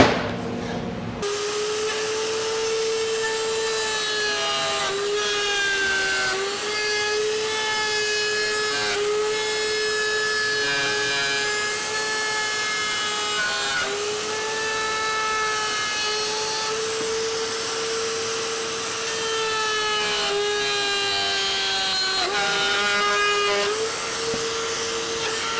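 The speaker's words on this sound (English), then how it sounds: "the blade below at the same diameter as the bearing will then cut off all the excess, essentially mimicking the router template onto the wood" A router with a bearing-guided bit trims wood to a cross template, giving a loud, steady high whine with a cutting rasp that runs continuously with only slight dips in pitch.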